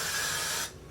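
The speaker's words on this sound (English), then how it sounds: "I take my Got2b spray one more time and spray it over the whole top of my head" Got2b hairspray hisses out in one steady aerosol burst over the top of a head, close and loud for most of a second before cutting off, with no talking.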